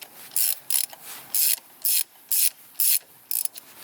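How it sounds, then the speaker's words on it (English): A small wrench works on a motorcycle chain during a chain replacement on a Honda NC750X, giving about eight short, crisp ratcheting clicks in a fairly even rhythm, close and loud, with no voices. "I can still use this small wrench."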